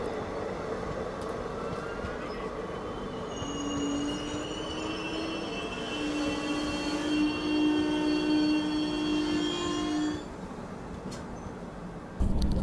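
Passenger train running at high speed, a steady rumbling rail roar with squealing, whistling metallic tones rising and fading in the middle, heard from inside the carriage with no talking.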